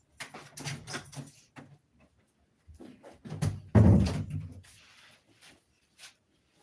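Indoor door being opened: a few knocks and handling clicks, then a louder thump and rattle of the door swinging, followed by soft settling noises, with no talking.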